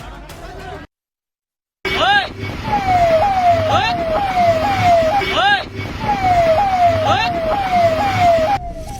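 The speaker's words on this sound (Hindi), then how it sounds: "पीछे से सायरन वाली गाड़ी की आवाज आ रही है।" An emergency vehicle's wailing siren repeats in rising sweeps behind a speeding tractor-trolley on an Indian road, over engine and road noise, loud and nearby, after a brief silent gap at the start.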